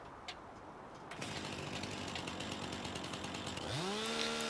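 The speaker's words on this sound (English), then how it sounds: "Grab our chainsaw." A chainsaw cuts up wood outdoors, starting abruptly and running as a loud, steady, buzzing roar that climbs into a higher-pitched rev near the end.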